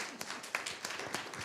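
Applause breaks out for the board president at a school district board of education meeting, a steady crowd clapping texture with a few sharper accents, moderately loud and continuous for its brief length.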